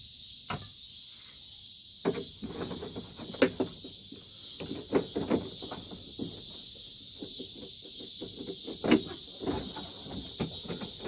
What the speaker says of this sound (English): the locusts are getting quite loud